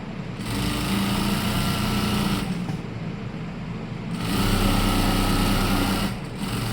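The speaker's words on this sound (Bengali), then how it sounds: "পেস্টিং কাপড়ে সেলাইটা চাপাইলাম, এইগুলো পেস্টিং কাপড়ে সেলাইটা দিতে হবে" A sewing machine stitches onto pasting cloth, a steady close-up mechanical hum running in bursts with brief pauses between them.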